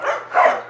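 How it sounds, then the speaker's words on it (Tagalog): Dogs scuffle and bark in a brief, close, strained burst, with yips and whines rising and falling over less than a second. "Nagrarambulan na yung mga aso ko pati yung mga bisita ko yung nadamay"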